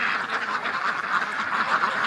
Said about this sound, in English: Come on, ducks, into the pen.